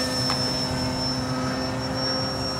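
A model Piper Cherokee airplane's small engine runs at full throttle, a steady, continuous whine throughout with no talk.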